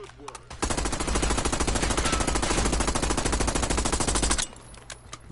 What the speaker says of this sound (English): we're just gonna shoot anything we got just to make you move